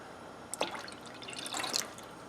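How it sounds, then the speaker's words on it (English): About half a cup of plain water poured into peanut satay sauce with liquefied peanut butter: soft, faint splashing and dripping in two short bursts, with no talking. "We're going to add in about a 1/2 cup of just plain water"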